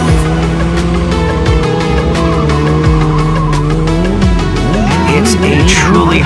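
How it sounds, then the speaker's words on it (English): Tires squeal repeatedly as motorcycle stunt riders skid at a Florida sportbike rally in DeLand, loud and close over a steady engine roar, with wavering pitch sweeps toward the end. "As we speak, these riders are pushing their bikes to the limit."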